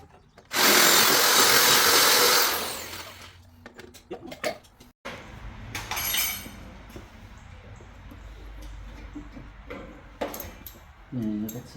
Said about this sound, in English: Gonna grind these off,